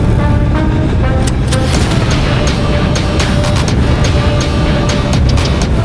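A Jawa 42 2.1 motorcycle roars steadily at about 140 km/h on a highway, its loud constant engine note mixed with heavy wind rush and no pauses.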